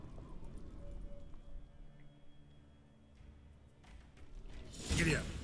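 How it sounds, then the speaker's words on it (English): A horse galloping in a video game, rhythmic hoofbeats under game ambience that build to a louder rushing swell near the end. "Grab a horse, we'll chase him down."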